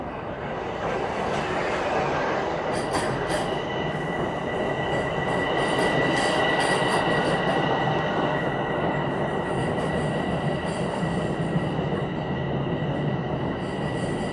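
A Toronto subway train passes at Eglinton Station, with a steady loud rumble of wheels on rails and a faint high squeal running throughout at close range.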